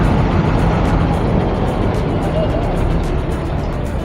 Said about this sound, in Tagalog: Ayan, traffic na naman.